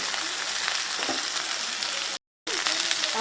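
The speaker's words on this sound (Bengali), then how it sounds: "আমি তেলে ভালো করে নাড়াচাড়া করে দিচ্ছি।" Fish roe stirred and fried in oil, a loud steady sizzle with light scraping strokes, cut by one brief dropout before frying resumes.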